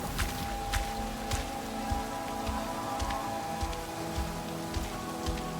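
Rain falls in Cyberpunk 2077 with the Perfect Rain mod, a dense, continuous patter and hiss with scattered sharper drops and low thumps beneath, at moderate level.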